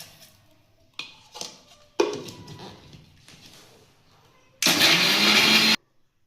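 A mixer grinder blends masala paste with tamarind and a little water for chicken ghee roast, starting with several short pulsing bursts and ending in one loud, continuous whirring grind before stopping abruptly.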